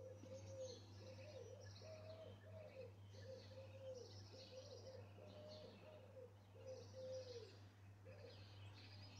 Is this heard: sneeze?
no